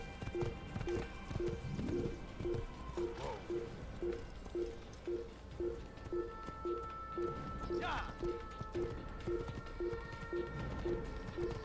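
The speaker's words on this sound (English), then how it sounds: "But I'm on a horse." Galloping horse in the Assassin's Creed video game, a steady, regular clip-clop of hooves running throughout beneath game ambience and a talking voice, with faint bird calls.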